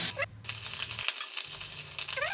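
Bay leaves, cashews and raisins fry in hot ghee with a steady close sizzle, broken by a couple of brief dropouts in the sound.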